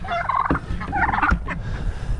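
Turkeys gobble near a farmyard, two or three rapid warbling bursts close by, overlapping with scattered clucks and rustle, no talk.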